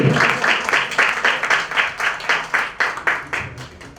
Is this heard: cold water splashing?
no